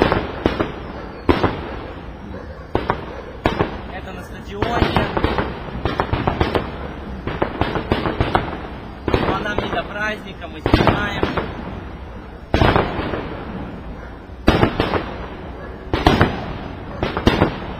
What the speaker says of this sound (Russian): Как мы слышим, салют.